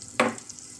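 Butter hitting a hot tawa: a single sharp sizzling burst that quickly fades to a faint hiss, very brief and close.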